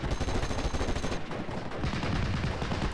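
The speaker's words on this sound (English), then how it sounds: "Guy's pinned, getting shot to hell." Dense, continuous gunfire in the WWII strategy game Steel Division: Normandy 44: overlapping rifle shots and machine-gun bursts crackle loudly and without pause throughout, with no talking.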